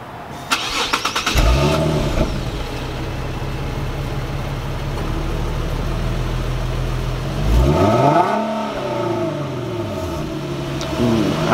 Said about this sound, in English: I'm gonna start it up, rev it a little bit, and then do a couple pulls up and back